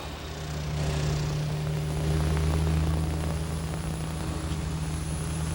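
A C-5 military transport aircraft flies over with a steady, moderately faint droning engine roar that swells slightly and holds, distant and continuous with no voices.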